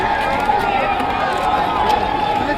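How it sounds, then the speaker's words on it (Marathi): A crowd roars and shouts continuously at a bullock cart race on the Kadav Kesari ground, a loud, dense wash of voices with no pauses. "जल्लोष"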